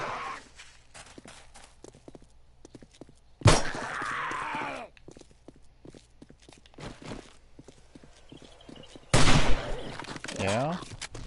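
A gun fires twice in the video game 7 Days to Die, each a sudden loud broadband burst with a ringing tail, spaced several seconds apart, over a quiet background of footsteps and small clicks.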